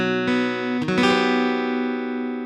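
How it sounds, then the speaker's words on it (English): Guitar strings strummed a few times and left ringing, the chords sounding sour and out of tune as they slowly fade. "It's a guitar that's out of tune."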